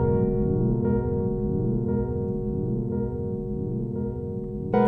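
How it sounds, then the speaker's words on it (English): An Elektron Model:Cycles synthesizer plays a repeating low tonal pattern while its delay time is changed, giving sweeping, pitch-bending echoes that pulse in a steady rhythm, loud and alone. "And you just mess with the delay time."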